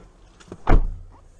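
A 2023 Toyota Highlander L Turbo door makes a single close, short thump with a brief mechanical rattle, preceded by faint clicks in an otherwise quiet cabin.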